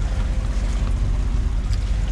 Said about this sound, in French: Moteur à 2000 tours minute.